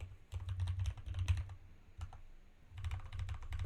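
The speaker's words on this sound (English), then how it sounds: "I would type in my actual email" Computer keyboard typing an email address into a sign-up form, quiet rapid bursts of keystrokes in two runs with a short pause between, close and alone.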